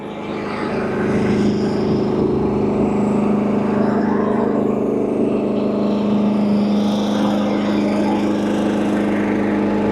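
A farm tractor pulling a large corn planter across a field runs its engine with a steady, loud, droning hum that holds constant throughout.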